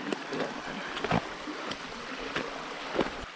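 A creek runs along a hiking trail at Clifty Falls State Park with a steady, close rushing wash, broken by a few brief splashes.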